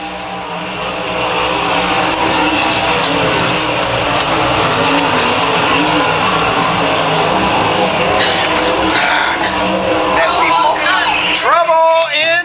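Sprint cars race around an ASCS dirt oval, a loud sustained engine roar with passing cars swelling past, while an announcer talks over it throughout.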